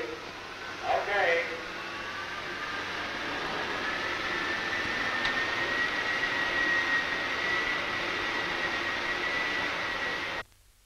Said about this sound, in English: You may open 15 and 16 and put on compressors 1, 2, 3, and 4, please